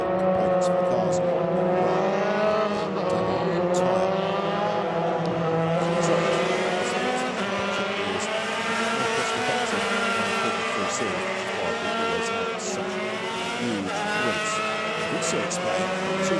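Formula 3 race cars with control Toyota engines at a Euroformula Open round at Barcelona, Spain, roaring steadily with high revving engine whine throughout, loud and continuous, with a voice talking over the racing noise.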